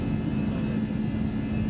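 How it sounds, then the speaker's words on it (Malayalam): An airplane takes off from the runway of an airport in Vietnam. Its engines give a steady, loud roar that holds constant with no voices. "വിമാനം റൺവേയിൽ നിന്നും ഉയർന്നു."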